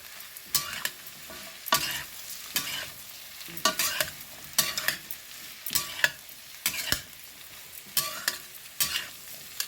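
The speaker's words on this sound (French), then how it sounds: "Là, je verse ma courge Et je l'enveloppe avec les ingrédients que j'ai mis par avant." Squash stirred in a frying pan with onion, bay leaf, whole seeds and spices for a sweet-sour anise squash dish, giving repeated close scraping, sizzling strokes in a steady rhythm with no talking.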